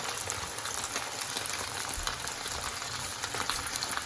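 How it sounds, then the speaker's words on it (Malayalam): Chicken pieces for Kerala-style chilli chicken bubble in a pan of hot oil, making a steady, fairly quiet crackling sizzle that keeps going with no one speaking. "നല്ല തിളച്ച എണ്ണയിലേക്ക് ഇടാം."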